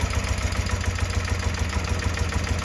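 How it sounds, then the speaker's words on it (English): A carbureted BMW motorcycle engine idling steadily with a low, even rumble as the idle speed is lowered, close by and running alone without talk. "So you can hear the idle come down."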